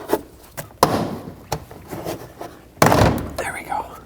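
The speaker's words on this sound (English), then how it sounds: "grab your plastic trim tool, wedge it between the door panel and the door, and basically what you want to do is pry the door panel out" Plastic trim tool prying the door panel off a 2007-2009 Saturn Aura, giving several sharp thunks and clip pops, with a loud wrenching release near the end, while a person talks over the work.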